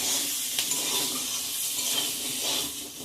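Eggplant slices fry in a pan of hot oil, producing a brief, continuous sizzle with light scraping or stirring up close and no voices.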